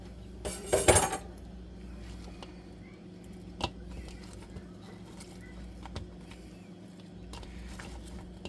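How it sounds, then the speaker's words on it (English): Dishes and a large kitchen bowl clatter and clink near the start while pickles are being made, followed by a quiet room with a few faint knocks. "So that's why we're getting a bigger bowl."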